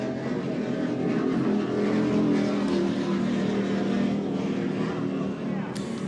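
A 47-foot MTI race powerboat roaring past on a Space Coast offshore race course, a loud, sustained engine drone with a commentator talking over it.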